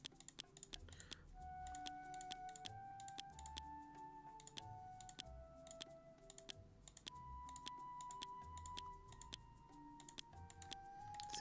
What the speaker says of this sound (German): Man hört die Klicks ganz schön in der Aufnahme.